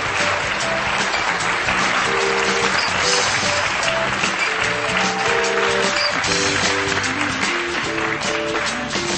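A conference audience applauds loudly as Brightwell board chairman Alpan Maras is invited onto the stage, the sustained clapping carried over steady upbeat music from start to finish.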